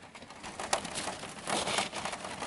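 Rain pattering on the roof skylight of a converted van, a steady dense patter with slightly heavier bursts, heard from inside with no talking.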